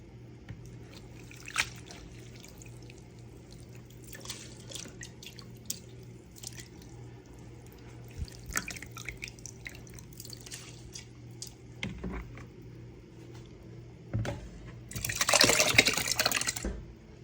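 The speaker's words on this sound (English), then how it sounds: "Fill the bucket with water, about a 1 to 3 ratio of seaweed to water." Water runs into a bucket of seaweed for making fertilizer, with faint drips and trickling throughout and a louder, steady splashing pour near the end.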